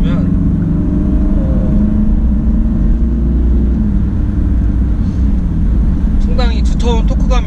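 Hyundai Santa Fe 2.2 diesel accelerating uphill, a steady loud low engine drone and road rumble heard from inside the cabin, with someone talking briefly near the end.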